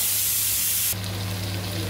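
Capsicum and potatoes tipped into a hot pan with onions and tomatoes, producing a loud, bright spraying hiss that drops abruptly to a softer steady sizzle partway through.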